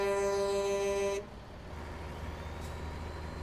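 A Kenworth T680 truck hauling 34 tons of coffee in American Truck Simulator, a steady low engine drone under load that follows a long, loud horn-like tone which cuts off abruptly.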